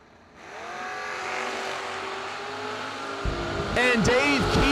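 Drag racing cars, one a 1990 Mustang with a 347-cubic-inch stroker small-block Ford, launch at a New Year Nationals event: a rising engine roar climbs steadily, then a second car's revving surges loudly over it near the end.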